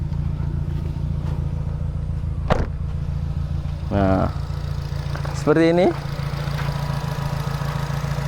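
A 2008 Nissan Grand Livina with automatic transmission idles with a steady low engine hum, while someone speaks briefly over it and a couple of short sharp noises cut in.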